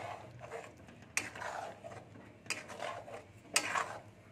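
A spoon stirs paneer and garam masala powder in a pan for a restaurant-style matar paneer, giving three sharp metallic clinks and scrapes against the pan amid soft background noise.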